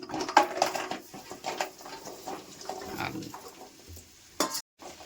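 Dates cooking in ghee in a pan for a dry fruit roll, giving close, soft sizzling with uneven scraping and stirring strokes that end abruptly in a brief clatter.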